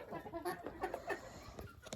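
Chickens cluck and murmur softly nearby, a faint rooster among them, with scattered rustling in the background.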